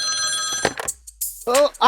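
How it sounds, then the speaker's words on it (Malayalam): A telephone bell rings loudly and close at the start, then breaks off as people talk in a comedy scene. "ഫോൺ അടിക്കുന്നു, നിങ്ങളെ ഫോൺ നിർത്തി."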